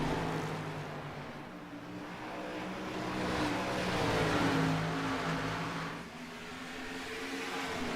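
Loud engine roar from several race cars sweeping past at a night race, swelling and fading in pitch, with a steady droning rumble throughout and no talking.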